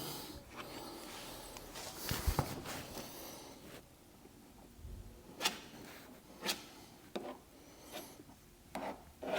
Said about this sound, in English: Right, I'm going to go and mix up some filler and we'll skim it up.